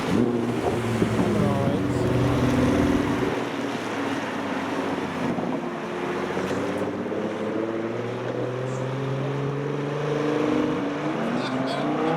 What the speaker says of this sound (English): We've got a GTR about to shoot through.